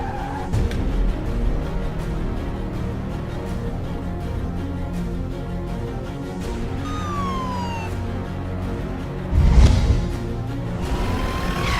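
A car skids as it turns around, heard as a loud, continuous engine and road roar with a rising tire squeal in the middle and a heavy low thump near the end.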